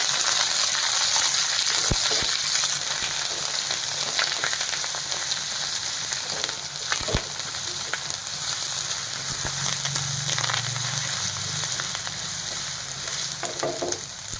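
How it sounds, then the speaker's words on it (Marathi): Ginger garlic paste sautéing in a pan for a Maharashtrian drumstick pithale, giving a steady, close frying sizzle with crackles and faint stirring scrapes that runs unbroken throughout, with no talk. "त्यानंतर एखादा चमचा आलं लसूण पेस्ट, हे परतून घेऊया."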